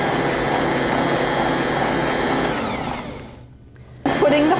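An electric mixer whirs steadily through biscotti dough for Greek biscotti, loud and continuous, then winds down and stops with a brief clatter and clink after a pause.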